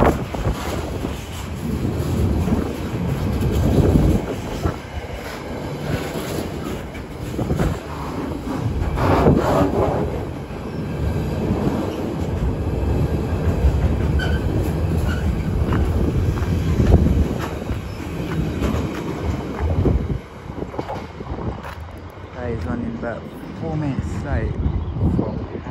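A GBRF Class 66 locomotive and a Greater Anglia train pass at Ely on the Fen line, making a continuous rumbling rail roar mixed with gusty wind buffeting the microphone while someone talks over it.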